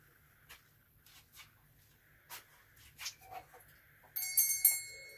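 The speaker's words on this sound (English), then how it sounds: "Ring a bell." Bell ringing: near the end, a bright metallic ring with several rapid strikes and a sustained ringing tone, after a few scattered soft knocks and clicks, moderately loud and close.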